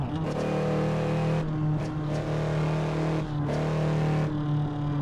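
A car engine drones steadily in the racing game Assetto Corsa, loud and close, with the pitch rising and dropping through several gear shifts and brief lifts of the throttle.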